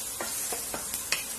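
Dried and green chilies with star anise fry in hot oil for Shanghai chicken, giving a steady hiss with light rhythmic stirring scrapes every few tenths of a second.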